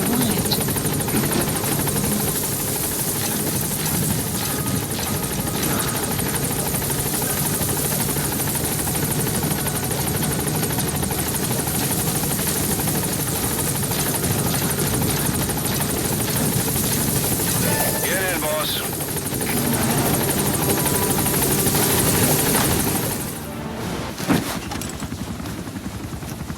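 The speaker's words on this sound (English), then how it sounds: "Support helicopter has arrived." A support helicopter arrives at a landing zone in Metal Gear Solid V, its loud rotor drone and engine whine filling the scene continuously and close, then cutting out near the end.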